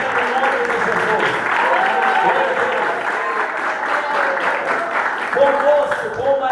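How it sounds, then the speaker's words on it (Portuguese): A church congregation applauds in a steady, dense wash of hand claps, while a voice speaks over the clapping throughout. "louve ao Senhor com a melhor salva de palmas que você puder receber"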